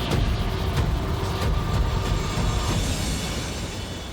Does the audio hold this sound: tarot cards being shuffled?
no